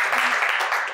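Audience applause at a ceremony designating a WHO tuberculosis research collaborating centre, a short burst of crowd clapping with a faint voice underneath.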